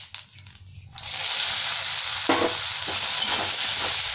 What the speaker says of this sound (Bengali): পেঁয়াজটাকে ভালো করে ভেজে নেবো একটু লাল লাল করে